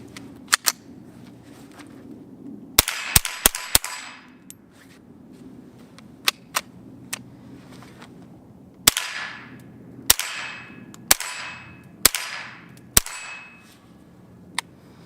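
A Ruger 10/22 Charger in an SB Tactical chassis fires sharp .22 shots outdoors, single cracks and quick bursts of several in a row with short echoing decays and quiet gaps between.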